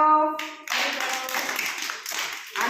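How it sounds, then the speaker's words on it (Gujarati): Children clapping their hands together, a burst of many quick overlapping claps following a short sung voice, close and lively, with some faint voices mixed in. "તાળી પાડો"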